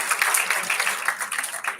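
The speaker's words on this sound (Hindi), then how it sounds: "तो इसी बात पे एक बार तालियां बजा दीजिए" An audience at a Hindi poetry gathering claps in sustained, dense applause for a couple of seconds, steady and fairly close.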